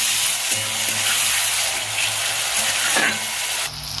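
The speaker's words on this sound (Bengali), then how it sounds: "আগে পেঁয়াজ আর টমেটোটা ভেজে নেবো একটু হালকা করে।" Onion and tomato fry in a pan with a steady, close sizzle; a few stirring scrapes come through, and the sound thins briefly near the end.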